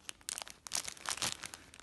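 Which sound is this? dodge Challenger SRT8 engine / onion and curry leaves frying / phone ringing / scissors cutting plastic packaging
scissors cutting plastic packaging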